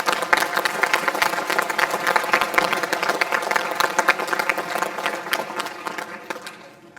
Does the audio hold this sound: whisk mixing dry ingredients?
no